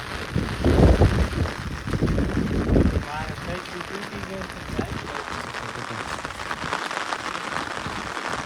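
Rain falls steadily on surfaces in a village in Botad, a dense, even hiss with gusts of wind and a heavier, rougher patch near the start.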